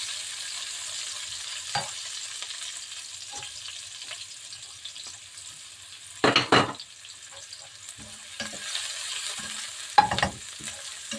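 Onions hit a hot pan for Filipino igado and sizzle quietly, with a few louder bursts of frying and stirring scrapes partway through, close and steady without talk.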